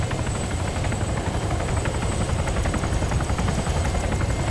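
Loud, steady rotor thumping and engine drone from a helicopter flying close in the military game Arma 3, unbroken from start to finish.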